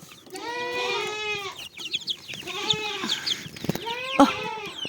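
Chickens cluck and squawk in bursts, several birds close by, with short gaps between calls and some scuffling noise.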